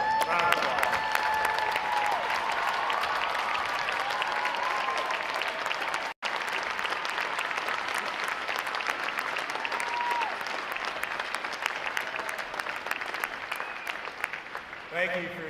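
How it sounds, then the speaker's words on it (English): Long, sustained applause from a large audience at a U.S. Navy boot camp graduation honoring veterans, an even, dense roar of clapping with a brief dropout partway through, then continuing with faint cheers. "There are veterans, please stand for a round of applause."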